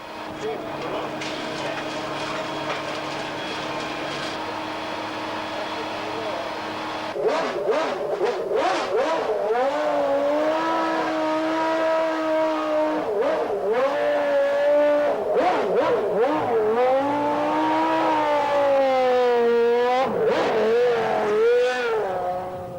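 Williams FW14 Formula One car from 1991 with an improved Renault V10 engine and semi-automatic gearbox, a loud high-pitched engine note that idles, then revs sharply up and down repeatedly, close by and continuous.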